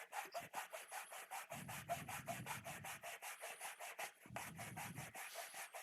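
Rhythmic back-and-forth rasping of a 220 grit sanding block worked across a plastic Xbox console case, close and steady with repeated strokes and brief pauses, no talk.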